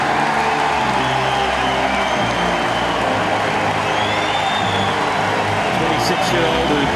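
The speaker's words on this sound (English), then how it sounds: "Probably the biggest cheer of the week." A large stadium crowd at the Paris Paralympics roars and cheers for Lucas Mazur, a dense, continuous, loud wall of noise with an announcer's voice over it.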